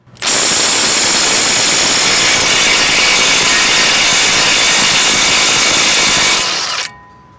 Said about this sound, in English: I'm using a 30mm deep socket to remove the axle nut.